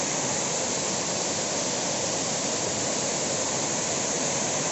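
Alakapuri waterfall, running with reduced flow before the rains, gives a steady, dense roar of falling water that fills the air without a break, with no voices.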